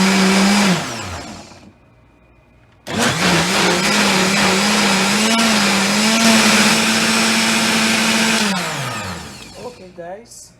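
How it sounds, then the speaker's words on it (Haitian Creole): Blender whirring loudly as it purées oat juice with figs, running in two bursts, a short one and then a long steady spin that winds down, with a low voice heard briefly. "nous allons mettre tout ça, nous allons mettre dans le blender"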